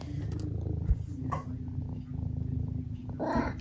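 A house cat meows and purrs close by, with a steady low purring throughout, a brief louder vocal burst near the start and another rising meow at the end.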